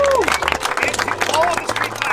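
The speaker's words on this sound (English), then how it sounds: "Big round of applause." Crowd at a Canadian drift event awards ceremony applauds, a busy clatter of clapping mixed with cheering and chatter, with talk and a faint whistle-like tone cutting through.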